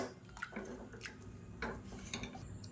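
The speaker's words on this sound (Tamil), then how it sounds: "இப்போ மேஷர் வச்சு நல்லா மசிச்சு விட்டுக்கலாம்" A masher works through cooked dal, pumpkin, onion and tomato in a pot for tiffin sambar. Several quiet, sharp metallic clinks and soft wet squishes come at an uneven rhythm, close by and faint, with no talking.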